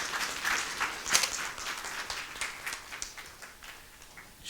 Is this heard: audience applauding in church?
yes